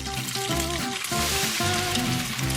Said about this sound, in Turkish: Dikkatlice bastırıyoruz ve kızartıyoruz